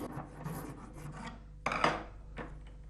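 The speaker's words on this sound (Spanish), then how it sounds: "José repasa el corte con la lima." A hand file rasping along a cut in a handmade sunglasses frame, repeated scraping strokes close up, a run of quick passes followed by two sharper, louder strokes.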